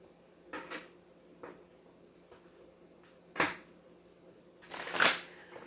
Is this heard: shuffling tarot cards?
yes